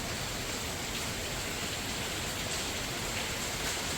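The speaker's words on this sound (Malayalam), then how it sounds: "ഓ ഭയങ്കര മഴ കേട്ടാ, ഭയങ്കര ശബ്ദം മഴ വരാം." Heavy rain pours down in a steady, dense roar at a home garden with potted Dieffenbachia (dumb cane) plants, continuous and loud with no breaks and no voices.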